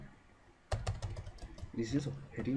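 Keys on a computer keyboard clatter in a quick burst of close taps while someone speaks over them.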